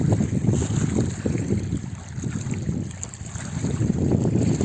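Steady wind in a pine forest fishing spot roars and buffets the microphone, with low rumbling gusts rising and falling over several seconds.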